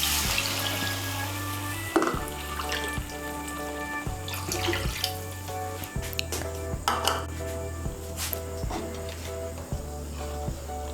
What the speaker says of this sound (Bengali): আমি এর মধ্যে 2 কাপ জল দিচ্ছি।